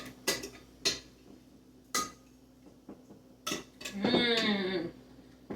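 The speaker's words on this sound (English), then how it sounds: "we're gonna give that a good stir" A spoon stirs chicken alfredo sauce in a metal pot, producing several sharp, separate clinks and scrapes against the pot's side, followed by a brief stretch of talk.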